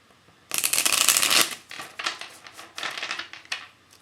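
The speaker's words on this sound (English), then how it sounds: "Okay, this is going to be the last of the shuffling now." Tarot and oracle cards are shuffled close by: a long riffling burst followed by several shorter flutters and snaps, with no talking.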